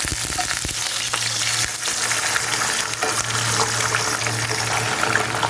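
An egg dropped into a hot frying pan with sliced tomato and capsicum, crackling and sizzling steadily with a constant hiss and a low hum underneath, no voices.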